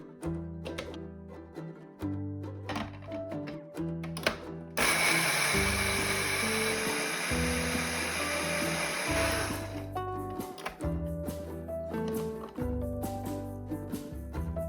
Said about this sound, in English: Into a blender, add some oats and grind them into a fine powder.